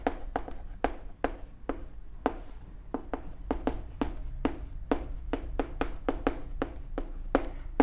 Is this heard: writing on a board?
yes